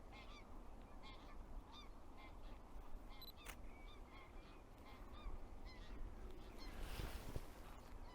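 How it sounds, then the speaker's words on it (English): Distant ducks flying overhead call in scattered honks and quacks over a steady outdoor hiss, with a camera shutter clicking once partway through. "there are a couple of ducks flying on this side now"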